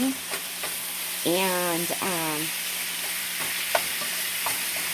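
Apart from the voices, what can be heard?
taco pie filling frying in a pan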